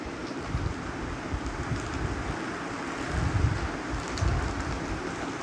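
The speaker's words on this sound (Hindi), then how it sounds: "बारिश बहुत तेज़ हो रही है यहाँ, अभी अभी शुरू हुई है बहुत तेज़ बारिश।" Heavy rain pouring down steadily in a dense, rushing wash of noise, with low gusty rumbles swelling and fading throughout and no voices.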